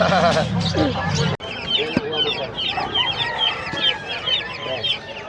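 Chickens cluck and chicks peep busily at a crowded pet market in Bocaue, with loud rooster-like calls up front, a sharp bump partway through, and people talking over the steady bird chatter.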